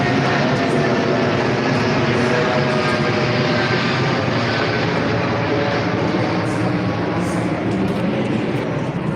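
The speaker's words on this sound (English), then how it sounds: "as I know you can't hear me because of the planes." Airplanes fly low overhead at Osu Castle in Ghana, a loud, continuous engine roar that fills the whole stretch and drowns out everything else.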